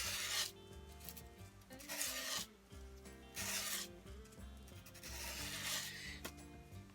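Sandpaper rasps back and forth across a rusty Norse knife blade in steady, loud strokes, each pass a gritty scrubbing burst separated by brief pauses.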